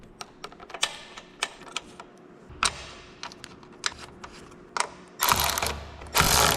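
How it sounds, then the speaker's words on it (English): Ratchet clicking in short bursts while rear bolts are fitted during a headlight install on a Harley-Davidson Road Glide, with scattered mechanical clatter and two louder, denser bursts near the end. "So now we'll just get the rear bolts in."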